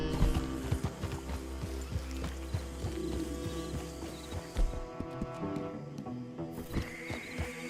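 Horse galloping in Red Dead Redemption 2, a quick, rhythmic run of hoofbeats over the ground that drops out briefly near the end, heard close under ambient game sound.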